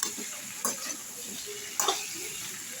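Ridge gourd and snake gourd being stir-fried in a pan, a steady faint sizzle broken by a few sharp scraping turns of the spatula, close and alone.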